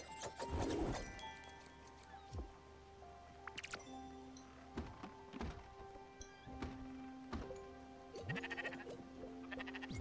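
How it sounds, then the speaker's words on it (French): Sheep bleat in the Spiritfarer video game while being fed, several short bleats spread over the scene with dull thunks and a steady tonal game background throughout. "Je vais finir ce que j'étais en train de faire, c'est-à-dire nourrir les moutons."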